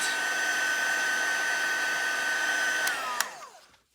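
A heat tool blows steadily as it dries embossing powder on paper, a constant whooshing hum with a faint high whine, then it switches off and the airflow spins down and fades.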